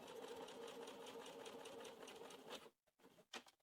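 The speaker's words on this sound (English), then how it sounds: "now we're going to sew those pieces together" Close, steady rapid whirring of a sewing machine joining baby bib pieces with a one-centimetre seam, running evenly for a few seconds before stopping, followed by a couple of short clicks and taps.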